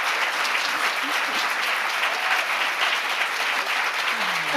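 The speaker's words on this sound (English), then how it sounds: "I feel like that's enough clapping." An audience claps steadily at a book launch, a dense, loud, continuous round of applause from a room full of people with no break.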